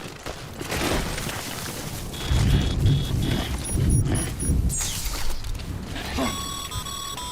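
Rain in the Death Stranding video game, a dense continuous hiss with heavier low rumbling bursts, overlaid by brief electronic beeps and tones from the game.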